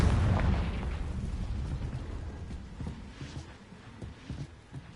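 Confringo blasting spell bursting in the Hogwarts Legacy video game, a loud booming explosion at the start that rumbles and decays, followed by scattered smaller crackling pops.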